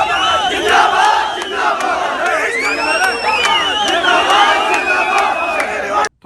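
A large crowd at a political rally in India for Rahul Gandhi roars and cheers continuously, with whoops and shouted calls rising from a dense wall of voices.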